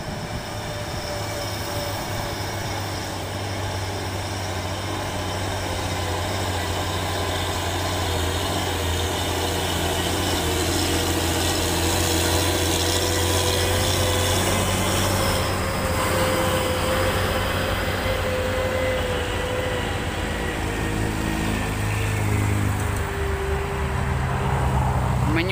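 Hino trailer truck hauling a 60-ton Kobelco crane accelerates on the road, a loud continuous diesel engine drone with rising pitch and rumbling road noise throughout, no talk heard.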